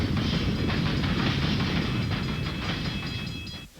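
A train rolls past on a railway in a TV commercial, a loud rumbling roar with rhythmic clickety-clack that holds steady, then fades away near the end.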